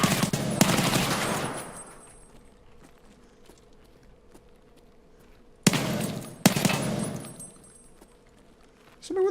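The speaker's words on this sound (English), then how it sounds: "Somebody with a shotgun over there." Shotgun blasts in Escape from Tarkov, two or three loud sharp reports spaced seconds apart, each followed by a decaying echo, with quiet footsteps and movement between them.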